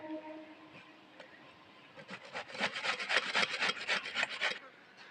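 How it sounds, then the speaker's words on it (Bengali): A bottle gourd is grated on a grater for payesh, a run of quick rhythmic rasping strokes that grows louder in the middle, close and quiet overall with no talk. "ঘষে নিয়েছি লাউটা"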